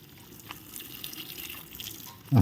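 Water runs steadily at low volume while ornamental potted plants are watered, a soft continuous stream that swells briefly louder right at the end.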